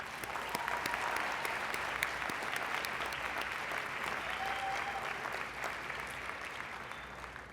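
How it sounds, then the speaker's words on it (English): Steady, dense applause from a large crowd at a college commencement, honoring faculty and staff, sustained at even loudness for several seconds. "Let's give our outstanding faculty and staff a round of applause."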